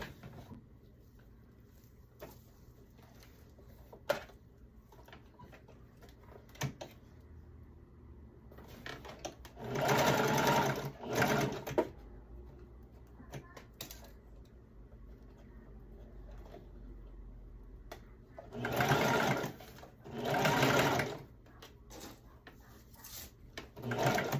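A sewing machine stitches pinned shoulder seams on a two-toned two-piece skirt set, running in two loud bursts of a few seconds each, separated by quiet handling sounds and soft clicks.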